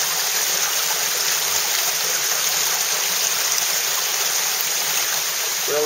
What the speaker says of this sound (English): There's the first waterfall.